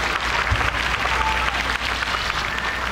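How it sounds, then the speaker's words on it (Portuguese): Studio audience clapping for the girls on a cooking show after a lemon cake is made, a steady dense wash of applause throughout under a low background hum. "Cadê o aplauso pras meninas?"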